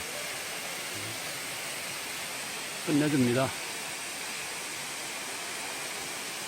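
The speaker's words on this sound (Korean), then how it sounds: "맑은 물에 비춰서 폭포가 이렇게 흘러내리고 있네요" The Geumsan Twelve Falls waterfall roars as a steady, broad rush of falling water, close and unbroken, while someone briefly speaks over it midway.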